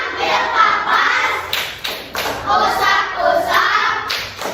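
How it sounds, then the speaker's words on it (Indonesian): Children in a classroom clap their hands in a rhythmic clapping game, a busy run of close, uneven claps and thuds with brief pauses, mixed with faint voices. "Ada tepuk tangannya. Tepuk dokter."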